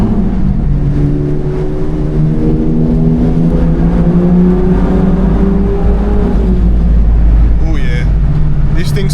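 A car with a stage 4 tune pulls hard through a road tunnel, its engine droning loud and steady with rising harmonics, the roar reverberating off the tunnel walls, with a brief higher whine near the end.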